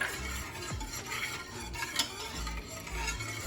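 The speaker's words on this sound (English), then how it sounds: "Here we have pepper, cumin, and garlic powder. Whisk that right in there." Pepper, cumin and garlic powder are whisked into a simmering sauce for beef enchiladas. The whisk makes a steady, close scraping and swishing in the pot, with faint sizzling underneath and no talk.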